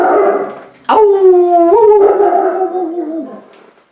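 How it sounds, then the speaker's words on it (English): A dog lets out one long, loud, wavering howl that rises, holds and slowly falls away, close by with no talking over it. "There's the dog."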